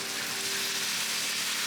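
Steady loud sizzling of lily bulb and beef tendon stir-frying in a hot pan with seasonings, a continuous bright hiss with faint stirring underneath.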